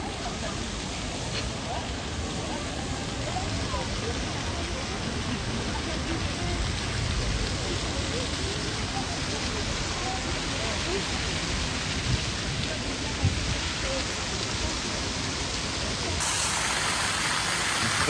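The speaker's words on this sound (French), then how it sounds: "le bruit que vous entendez, c'est la fontaine qui est là." A fountain on the Grand Place of Mons splashes in a constant wash of falling water, heard outdoors over faint traffic, with a voice talking over it.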